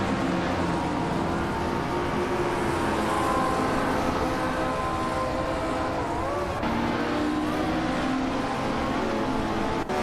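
A 1961 Cooper T55 race car in a racing game holds a sustained engine whine that shifts pitch as it runs through gears, loud and continuous with other cars faintly mixed in.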